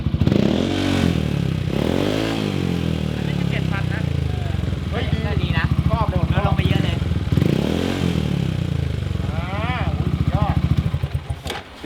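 A Yamaha XMAX scooter fitted with a Daivo exhaust rumbles nearby, its engine note rising and falling in several rev swells while someone talks over it throughout.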